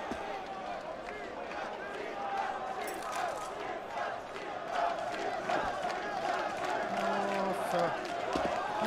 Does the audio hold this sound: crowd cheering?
yes